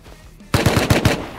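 Automatic gunfire in the video game Rust: after a quiet lead-in, a loud rapid burst of about five close shots rings out in quick succession.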